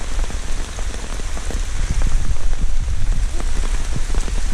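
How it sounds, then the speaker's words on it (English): Rain drumming hard on a tarp shelter on a forest trail in Allegheny National Forest, a dense, steady patter of close drops with heavier gusts swelling midway, no voices. "I'm just going to hang out under here and wait this rain out"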